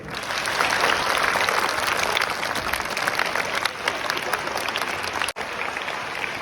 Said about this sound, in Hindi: एक बार स्वागत की तालियां तो बनती है भाई